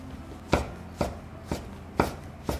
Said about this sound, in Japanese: 軸取って薄切りします。